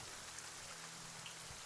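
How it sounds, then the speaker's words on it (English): Steady light rain pattering on surfaces, a soft continuous hiss of drops with no voices. "On the morning of the 5th day, the rain eases off a little bit. It's no longer a heavy downpour,"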